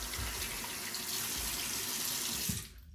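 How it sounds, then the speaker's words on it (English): A faucet pours a steady, close stream of water into a shaving bowl, a broad rushing hiss that cuts off abruptly near the end. "Get some water in the bowl."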